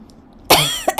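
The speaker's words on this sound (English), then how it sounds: "my cough is bad" One sharp, harsh cough bursts out close to the microphone after a quiet moment, followed by a shorter second cough.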